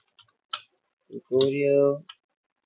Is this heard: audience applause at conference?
no